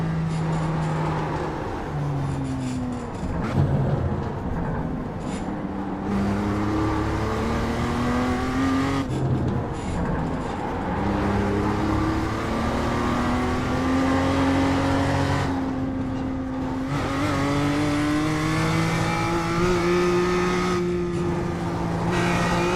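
A BMW M2 race car in iRacing revs and shifts continuously, with its engine note climbing and dropping through the gears, loud and close throughout with no talking.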